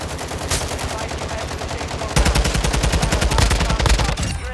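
Call of Duty gunfire, rapid automatic bursts at close range that grow heavier and louder partway through, with no talking.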